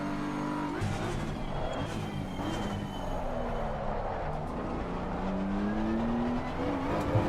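Race car engine in a sim racing game during a quick lap, loud and continuous with rising and falling revs, gear changes and a faint tire squeal, heard alone without talk.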